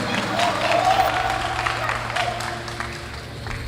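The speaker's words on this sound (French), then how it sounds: "On applaudit plus fort, s'il vous plaît." A live talent-show audience applauds in a steady wash of clapping that swells and lingers, with a voice briefly audible over the crowd.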